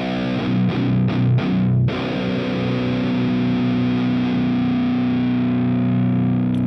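Electric guitar run through a TSE X50 amp simulator with no booster plays a few quick palm-muted chugs, then a sustained distorted chord that rings out, alone and loud.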